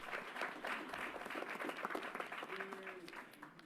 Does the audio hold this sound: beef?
no